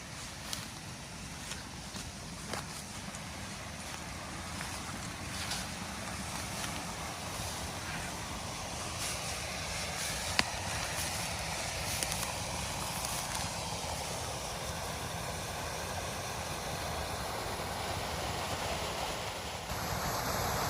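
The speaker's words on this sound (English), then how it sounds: "We heard the loud flowing or the fast flowing water." Fast-flowing stream water tumbling over a drop-off in woodland makes a loud, continuous broadband rush that stays steady throughout, close to the microphone with no pauses.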